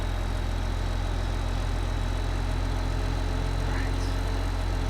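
A tractor in Farming Simulator 15 on Coldbrough Park Farm, its engine idling in a steady, low, constant rumble that stays loud and unchanging throughout, with no talking.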